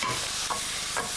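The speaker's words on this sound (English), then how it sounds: "scrape up all those nice brown bits which will add some lovely flavour to the sauce" Spatula scraping browned bits loose in a frying pan with ginger as a sauce cooks, steady frying hiss with two short scraping strokes about half a second apart.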